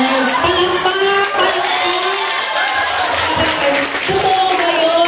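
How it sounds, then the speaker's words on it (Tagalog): A Sunday worship service congregation responds with loud clapping amid cheering and shouting from the crowd, steady and close throughout. "Palakpak!"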